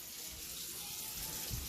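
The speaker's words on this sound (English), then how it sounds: "Filled it up with water, and then just let them sit for a while." Water pours into a container of freshly foraged fiddleheads, a soft, even rushing hiss that holds steady throughout, faint and with no voices.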